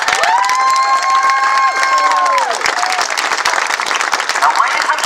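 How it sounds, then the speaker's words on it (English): Loud applause and cheering from a large crowd at the unveiling of a custom hot rod, with dense clapping and whoops throughout. A sustained tonal chord, likely music or a horn, sounds over the first half and then stops. "Give them a nice round of applause right now."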